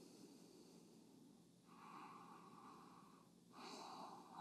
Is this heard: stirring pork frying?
no